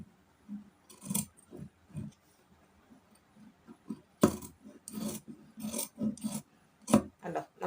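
Scissors snip through fabric while a nighty is cut to shape, giving short separate crisp cuts and rasps at an irregular pace, close and fairly quiet, with no talking.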